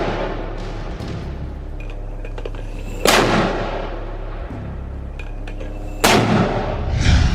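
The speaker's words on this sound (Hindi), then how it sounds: "हमास के कुछ लड़ाके लॉन्चर्स में रॉकेट भर भर कर दागते हुए नजर आ रहे हैं" Hamas fighters loading and firing rockets from launchers, loud rushing launch blasts bursting out about every three seconds over a constant roaring rumble.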